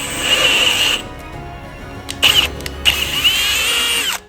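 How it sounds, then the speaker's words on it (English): A power drill with a bit enlarging holes whines at high speed, stops, then spins up again in short bursts with brief pauses between, close and loud. "I'm just going to make the holes a little bit bigger"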